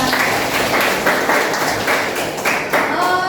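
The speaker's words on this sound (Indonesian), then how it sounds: "tepuk tangan untuk Nadia" A classroom of students claps for a classmate named Nadia during a lesson, loud close-up applause with individual hand slaps pulsing in rough bursts, a few voices audible underneath.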